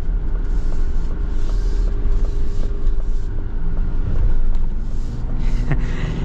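A Ford Bronco Raptor rolling on mud-terrain tires gives a steady, loud in-cabin engine and road rumble with tire roar, plus a few faint knocks and rattles throughout.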